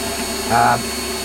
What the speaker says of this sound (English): because I was drilling 20 mil deep